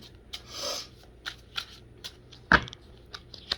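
Soft riffling and slapping of tarot cards being shuffled by hand, in short bursts with pauses, one sharper snap partway through, no talking.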